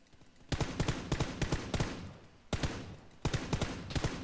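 Gunfire from the video game PUBG sounds close and loud in three separate volleys. Each volley is a quick string of sharp cracks, and the volleys are divided by short pauses.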